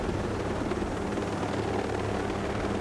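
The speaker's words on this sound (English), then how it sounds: "Enemy helicopter." An enemy helicopter in the Ghost Recon Breakpoint video game, a steady rotor thrum and engine roar filling the scene throughout, fairly loud and continuous with no talk.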